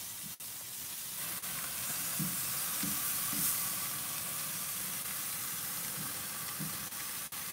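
Skirt steak sizzles steadily on a grill over direct fire, a continuous broad hiss with a few faint clicks and small pops, close and even throughout.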